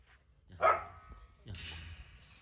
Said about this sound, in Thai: อ้าวบุญรอดก็เห่า